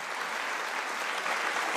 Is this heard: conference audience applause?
yes